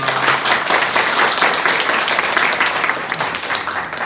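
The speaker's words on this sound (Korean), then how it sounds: "한번 우리 박수로 화답하겠습니다" A church congregation claps together in a brisk, continuous round of applause during a Sunday service, close and fairly loud throughout.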